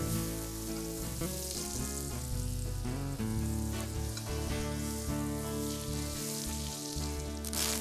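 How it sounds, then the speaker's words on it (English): Fish sautés in butter in a pan, giving a continuous hissing sizzle that sits under loud, sustained background music. "Then saute in a pan with butter."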